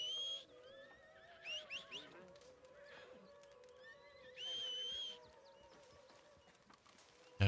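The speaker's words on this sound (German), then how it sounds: "So, Pferd, komm her, wir reiten jetzt woanders hin" Horse hooves clip-clop steadily as a rider travels in Red Dead Redemption 2, with whistles and a brief whinny above, fairly quiet and under game speech.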